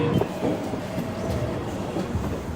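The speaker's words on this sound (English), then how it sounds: "We get off and transfer to the L train toward Brooklyn." New York subway L train at the 14th Street–Union Square station, a steady loud rumble of a train running through the station with faint rail clatter throughout, no talk.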